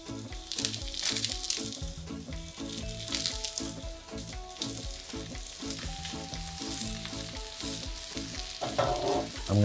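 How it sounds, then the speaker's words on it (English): Mushrooms laid face down in a very hot pan sizzle and fry steadily and loudly, with a dense continuous crackle close up and no talking. "So I'm just gonna add the mushrooms right to it, face down for as many as I can."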